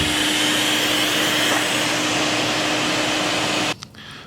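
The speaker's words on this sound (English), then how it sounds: "the shop vac is blowing air into the furnace" A shop vac blows air into a homemade forge furnace fuelled with wood scraps, giving a loud, steady whooshing roar with a constant whine that cuts off abruptly near the end.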